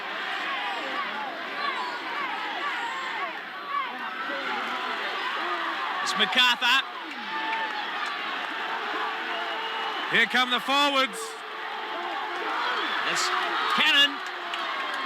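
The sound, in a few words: rugby league crowd roaring for the Bears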